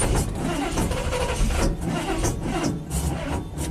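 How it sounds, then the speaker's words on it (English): A 1987 GMC V8 plow truck engine cranks repeatedly without catching, a rhythmic, close grinding churn that continues throughout. "so now it's a kind of a crank no start. Give it some gas."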